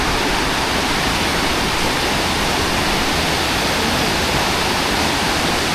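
Water rushes and gurgles continuously in a rocky riverside stream near a temple in Konkan, a loud, dense, steady roar with no voices.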